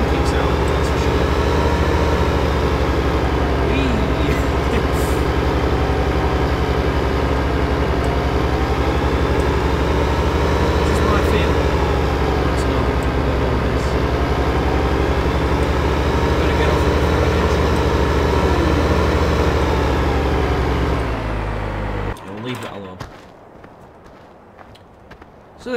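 Tractor engines in the farming game Farming Simulator 15 drone steadily and loudly with a low, even hum and slowly wavering pitch, running continuously before cutting out abruptly near the end.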